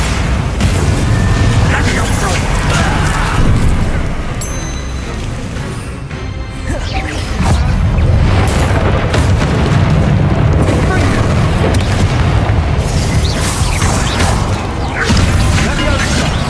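A Bombarda explosion spell goes off in the Hogwarts Legacy video game with deep, heavy booming blasts. It sits within a loud, dense wash of continuous game sound effects and rumble.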